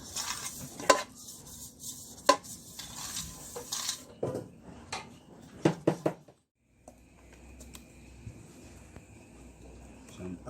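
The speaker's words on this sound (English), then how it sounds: "I am currently greasing the baking tin with some cooking oil" A brush spreads cooking oil across a baking tin for a carrot cake, making soft swishing strokes broken by sharp metallic clicks and knocks of the tin. A quiet stretch with faint rustling follows.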